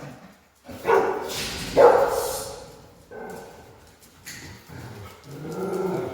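A mother dog, near and loud, gives a strong double bark, two forceful barks close together with a growly edge, followed by lower rumbling vocalizations while she walks toward another dog.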